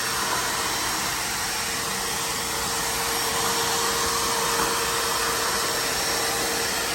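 An EOCMAX shop vac runs continuously while sucking up a mess, a loud, steady, high-pitched airy roar with a constant whine that holds without pause or voices.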